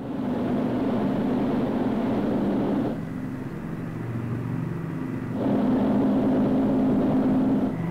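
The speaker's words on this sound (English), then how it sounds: "Today, a B-29 that will never again carry bombs climbs for the first time in decades." Restored Boeing B-29 Superfortress bomber climbing, a loud continuous multi-engine piston drone that dips in level briefly midway before swelling back up.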